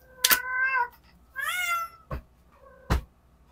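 A pet cat meows several times indoors, drawn-out nasal cries close by, separated by a few dull thumps and brief quiet gaps.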